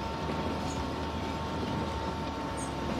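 A train locomotive in the simulation game Transport Fever 2 runs along the track, producing a steady, dense rumbling roar with a faint high squeal, continuous and without talk.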